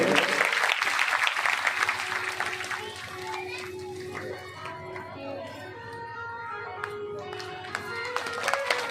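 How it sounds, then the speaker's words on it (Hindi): A gathering at a Shrimad Bhagavat Katha religious recitation claps in honour of someone, a burst of crowd applause for the first few seconds that gives way to voices, including children, talking over a quieter room. "इनके नाम के लिए एक बार सभी तालियों से संबोधित करें।"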